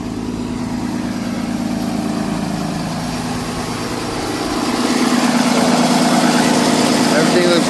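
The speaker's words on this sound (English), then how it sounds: "I'm going to go ahead and shut the engine off" An engine idles loudly and steadily close by, a continuous low rumble that grows slightly stronger and rougher about two-thirds of the way through.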